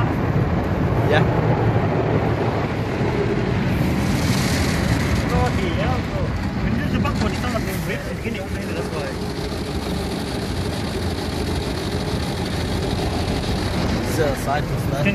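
Drive-thru car wash machinery running over a car at a Euro Garages site, a loud continuous mechanical rumble and whirring with the car shaking, heard from inside the vehicle while people talk over it throughout.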